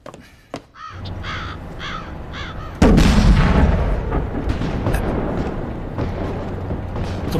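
Distant artillery fire in a 1920s Chinese warlord-era war drama: a heavy boom breaks in abruptly and leaves a long, loud rumbling roll, after a few crows caw nearby in the quiet beforehand.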